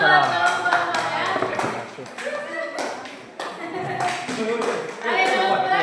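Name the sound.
audience applauding a presenting group in a classroom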